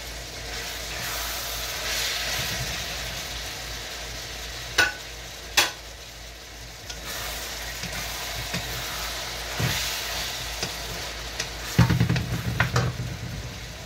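Pork frying in a pan for a Filipino guisado dish, with a steady sizzle and hiss throughout, broken by a few sharp scraping stirs and a louder clattering burst of stirring near the end. No one speaks.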